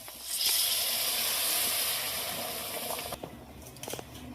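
Hot water pours into a hot pan of spiced peas for ghugni, a loud steady hiss and rush that fades after a few seconds into softer bubbling with a few light clinks.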